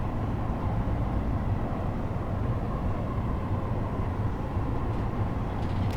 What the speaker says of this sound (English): It has to be one of the loudest trains in Train Sim World.